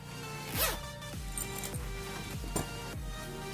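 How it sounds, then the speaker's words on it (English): A zipper rasps open and shut in a few quick, close pulls, with faint light clinks in a quiet room. "Zipper."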